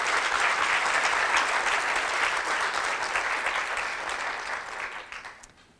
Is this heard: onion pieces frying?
no